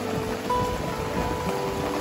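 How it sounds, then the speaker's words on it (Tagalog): Rain falls steadily at a lakeside spot in Caliraya, Laguna, heard from shelter at a café as a soft, continuous hiss with faint patter, with no talking. "Lumakas na naman yung ulan."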